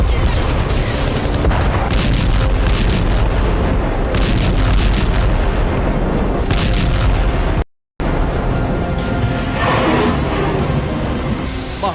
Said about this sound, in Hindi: महाविस्फोट।